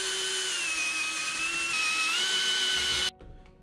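A power drill whines at a steady high pitch for about three seconds on a clamped part of a Jeep Grand Cherokee WJ seat, then cuts off abruptly, leaving a faint winding-down hum.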